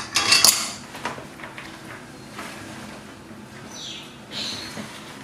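Utensil clinking against a bowl while potatoes are mixed, a few sharp close knocks at first followed by softer scraping and faint rustling.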